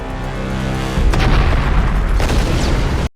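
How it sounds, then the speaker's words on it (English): A bomb blows up in a film scene, a loud deep boom bursting in after a tense low rumble, with a sustained roaring blast and debris crackle for about two seconds before it cuts off. "Elish is left to get blown up"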